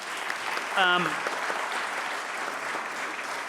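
Audience at a New Zealand science awards ceremony claps steadily, a dense even patter of applause with a brief whoop or cheer rising over it early on.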